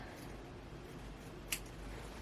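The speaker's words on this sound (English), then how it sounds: "I'm going to take some scissors and I'm going to chop this big old chunk of the web off" One crisp snip of scissors cuts through a fake spider web Halloween decoration, a single short click midway through an otherwise quiet stretch.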